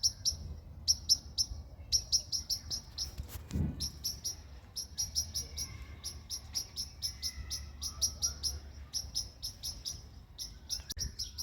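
A starling perched in a bush in a Dutch village calls agitatedly, repeating sharp high chirps in rapid bursts throughout, with a faint low rumble beneath and one brief thud.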